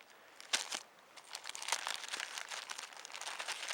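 A plastic bag holding a phone crinkles and crunches softly at close range, with several sharper crackles among continuous rustling and no talk, during packing for a winter camping trip.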